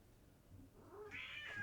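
A cat meows once, a soft, rising and drawn-out cry close by in a quiet room.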